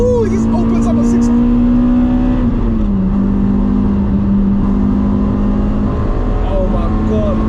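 A 2004 Toyota Celica VVTL-i 190 T-Sport engine revs hard in third gear, its steady, loud drone dipping briefly mid-pull before climbing again, with road and wind noise underneath.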